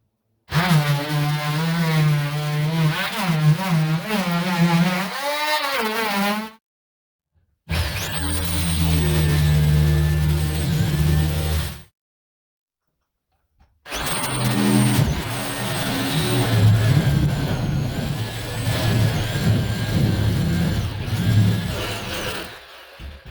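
A power saw blade cuts into an LVL beam during beam removal in an earth berm house, running in three long, loud motor-driven bursts whose whine rises and wavers, separated by short silences.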